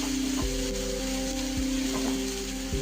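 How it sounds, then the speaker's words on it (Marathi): Onion and spices fry with ginger garlic paste in a pan, a soft steady sizzle with a few faint scraping strokes under a constant background hum. "सोनेरी कलर येईपर्यंत हे कांदा आणि मसाले पूर्ण भाजून घ्यायचे."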